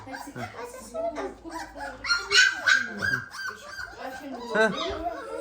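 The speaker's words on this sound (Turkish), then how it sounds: "hav hav yapıyor" Small Presa Canario puppy barks and yips come in short bursts close by, mixed with someone talking softly and hushing.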